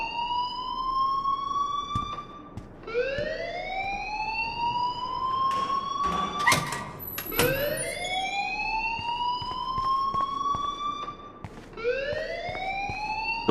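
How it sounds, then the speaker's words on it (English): A school fire alarm in the Life Is Strange video game sounds as a repeating electronic siren, each tone sweeping upward and then dropping off. It cycles steadily and loudly over several seconds with no talk. "please turn off that alarm since that's your job"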